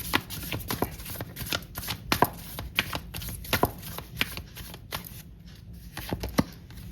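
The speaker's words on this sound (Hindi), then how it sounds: "मैं कुछ कार्ड्स और निकाल लेती हूँ" Tarot cards being drawn and shuffled by hand: a steady run of crisp flicks, slides and soft riffling snaps over a low room hum, close up and without speech.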